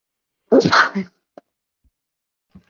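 A single sharp sneeze bursts out close by, followed by a couple of faint small sounds and near silence.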